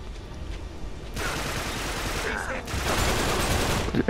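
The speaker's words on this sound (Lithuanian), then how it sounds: "Kažkas dar šaudo." Gunfire from the video game Uncharted 3: Drake's Deception, with bursts and scattered shots beneath dense game noise, and a voice talking over parts of it.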